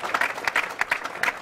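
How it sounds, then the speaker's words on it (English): Brief applause from an audience at a mixed martial arts press conference, a patter of clapping hands heard up close for about a second and a half. "So another big round of applause for all of you."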